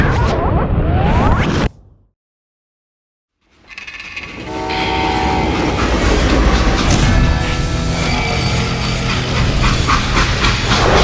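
Train in the Western video game Call of Juarez: Gunslinger, a loud rumbling run of wheels and carriage noise with horn and whistle tones and hissing steam, broken by a short silence before the rolling din resumes and carries on steadily.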